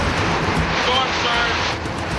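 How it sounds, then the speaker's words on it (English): Hurricane Katrina wind and storm-surge water rushing into a room, a dense, steady roar of wind and churning water throughout, with voices talking faintly beneath. "Water's coming in the room."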